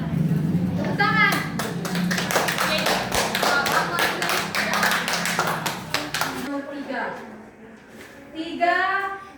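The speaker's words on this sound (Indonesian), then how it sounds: "Tepuk tangan." A classroom of students claps hands together in a burst of dense, fast applause lasting several seconds, then fades as children's voices talk.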